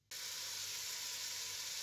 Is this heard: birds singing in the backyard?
no